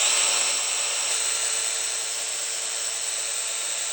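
A Festool Domino jointer whines steadily as it plunges and cuts mortise slots in wood, a loud, continuous high-pitched motor tone with no talking.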